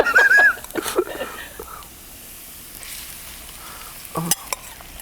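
Garlic and onion fry in a pan with a steady, close sizzle and some stirring, while a voice speaks briefly over the start and the frying continues underneath.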